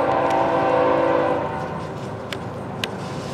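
A passing FEC freight train led by locomotive 206 rumbles and drones loudly, then fades to a lower hum with a couple of brief sharp clicks near the end.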